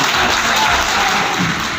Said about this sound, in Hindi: अगर इतने हल्की ताली बजाओ तो काम होने वाला नहीं